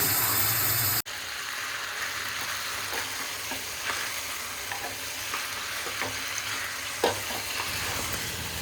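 Fish tawa frying on a griddle, a steady close sizzle and crackle with occasional pops, holding loud and even throughout after a brief opening noise.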